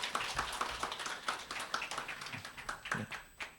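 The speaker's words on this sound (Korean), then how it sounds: "큰 박수 부탁드리겠습니다" Audience clapping at an award ceremony for a legislative and policy proposal contest, a quiet, steady patter of many hands lasting a few seconds without speech.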